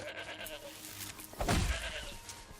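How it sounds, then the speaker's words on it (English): In Horizon Zero Dawn, a goat gives a single short bleat, faint and brief, over quiet game ambience. "I'm chasing you, goat."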